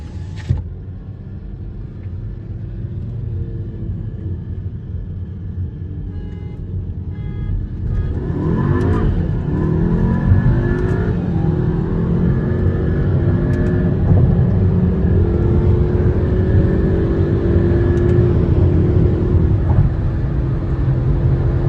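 Two Skoda Octavia 1.8 TSI cars, one Stage-1 tuned and one stock, accelerate hard from a first-gear roll in a drag race, a loud sustained engine roar with rising pitch sweeps as they rev through the gears.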